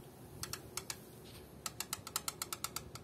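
A loose valve in a Shineray Eagle motorcycle engine, worked by hand, makes faint, sharp metallic clicks, first scattered and then in a quick run of rattling taps.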